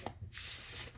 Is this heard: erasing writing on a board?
no